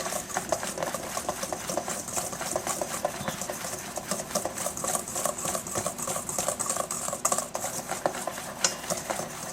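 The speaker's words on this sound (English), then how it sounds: "I'm going to put this right onto the flour. I'm going to use it with a whisk." A whisk mixing flour, cornstarch, baking powder and salt in a bowl, a rapid, steady rhythmic ticking and scratching that continues throughout at close range.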